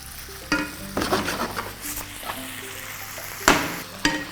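Chicken strips frying in oil with a steady sizzle, interrupted by several sharp scrapes and clatters of a spatula stirring the pan.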